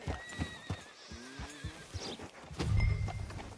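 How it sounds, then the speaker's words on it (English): A horse in the western Red Dead Redemption 2 gives a close, loud whinny and snorts, with hooves clip-clopping nearby and a deep rumbling blow near the end. "Hitch your horse up here."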